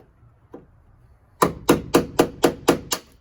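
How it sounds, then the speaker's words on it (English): A chisel is hammered against aluminum rivets on the window regulator of a Mercedes ML driver-side door, one lone strike followed by a quick run of seven sharp, evenly spaced metallic blows, close and loud. "Alright, so basically I'm just chiseling those off."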